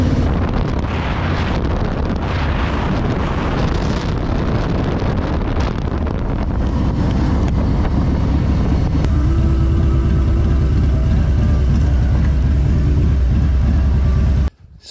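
Along a canyon ridge road above a huge gorge, a car drives with loud, continuous rumbling road and wind noise that buffets the microphone throughout, then cuts off abruptly at the very end.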